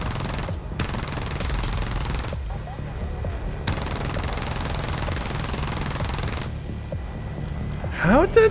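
Sustained aircraft machine-gun fire in War Thunder, loud rattling streams broken by short pauses between bursts, with a rising whine near the end.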